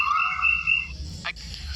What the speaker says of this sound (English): and Congo peacocks sound like this.